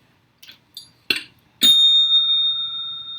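A bicycle-style bell dings several times in short, separated strikes, then one bright ring sustains and slowly fades, clear and close with no talking.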